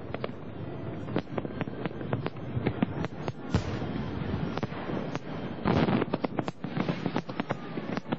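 Large fireworks display bursting in the sky, a continuous dense barrage of booms and sharp crackling pops with wind rumble on the microphone, loud and sustained throughout.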